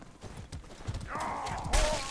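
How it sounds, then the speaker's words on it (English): In the medieval combat game Mordhau, a horse's hooves clip-clop rapidly at a gallop, followed by a short whinny-like cry near the end, fairly quiet amid game sounds. "Oh, the horse."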